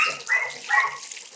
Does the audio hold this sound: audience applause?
no